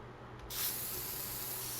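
Spray tool in The Sims 4 hissing on in one broad burst, steady and fairly loud, then holding a constant airy spray to the end with no talk.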